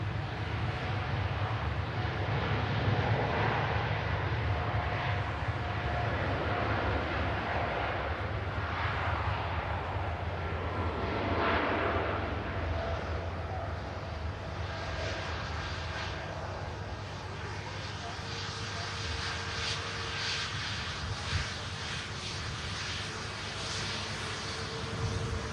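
Juneyao Airlines jet departing Manchester Airport, a steady distant engine roar and broadband rumble lasting throughout, with no voices.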